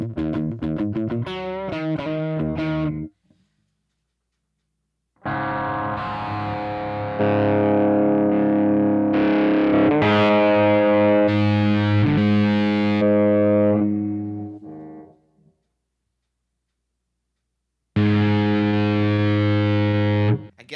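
A bass guitar played through a Kemper amp profiler with heavy distortion and effects sounds out in thick, sustained notes and chords, several phrases separated by short silences.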